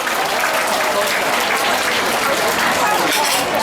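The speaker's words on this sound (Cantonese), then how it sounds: "大家俾掌聲佢好唔好啊" Guests at a wedding banquet break into steady, dense applause that fills the hall, with a voice talking over the clapping.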